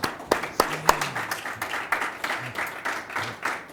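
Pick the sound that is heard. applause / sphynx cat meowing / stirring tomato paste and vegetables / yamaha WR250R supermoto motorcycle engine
applause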